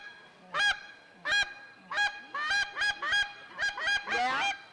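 Goose call blown by a caller at a waterfowl festival, imitating a Canada goose with a run of loud, close, honking notes in irregular bursts that speed into a quick cluster at the end.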